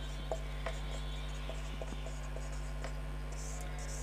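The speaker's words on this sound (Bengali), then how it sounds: "ডাইরেক্ট এলাইজার ডায়াগ্রাম আঁকছি।" Pen strokes scratch across paper while a direct ELISA diagram is drawn, faint scattered scribbles over a loud steady electrical hum with no voice.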